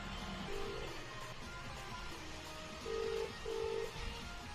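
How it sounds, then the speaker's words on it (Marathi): A phone is dialed for a call, and a few short keypad tones beep over a quiet room hum, one early and then two close together near the end. "थांब, तुझ्या घरच्यांना फोन लावतो मी."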